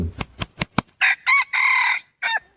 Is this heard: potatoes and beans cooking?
no